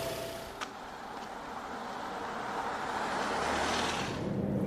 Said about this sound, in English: it kind of sounds like a diesel, this petrol engine